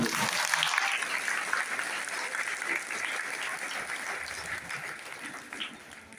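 An audience at a community felicitation gathering claps steadily throughout, a dense sustained applause that slowly thins and quiets toward the end.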